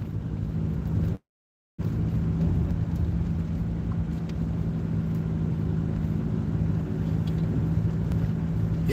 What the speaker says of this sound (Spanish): Qué raro que venga un coche para acá esta mañana.